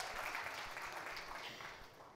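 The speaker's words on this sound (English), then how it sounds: "Have a slightly louder round of applause, ladies and gentlemen, and not just from the Amazon team." A launch event audience for the Mirzapur web series with Ali Fazal and Pankaj Tripathi applauds steadily, a broad wash of many hands clapping that eases slightly toward the end.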